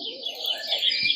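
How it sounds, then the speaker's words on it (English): Forest ambience plays from a sunrise alarm clock, with bird chirps and soft calls layered over a gentle background wash. It stays fairly quiet and steady throughout, with no talking. "ambient sounds like this forest over here"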